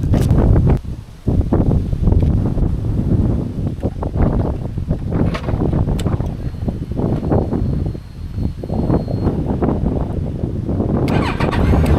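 A Yamaha FJR 1300 sport-touring motorcycle engine rumbles up close on a fall ride in Wisconsin, its low throb loud and uneven under heavy gusts of wind buffeting the microphone.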